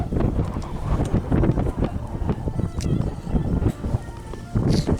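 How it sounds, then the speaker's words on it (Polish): Gusty wind buffets the microphone outdoors during ice fishing in a steady rumbling roar, with brief bumps and knocks under it. "Jeszcze do tego wiatr się zrobił."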